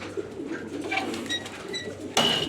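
Pigeons coo softly in Qatar heat of about 50 °C, a few short calls at close range over a steady hum, followed by a louder broadband burst near the end.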